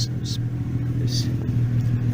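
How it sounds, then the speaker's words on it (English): A Subaru H6 3.0 engine fitted in a VW T3 van idles unevenly after a hot start, a steady low rumble that wavers as it splutters, with a few brief hissy bursts over it. "It's spluttering, but it's catching itself."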